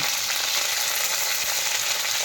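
Onions sizzling and frying in a hot wok, a steady, dense crackling hiss that stays loud and even throughout with no talking.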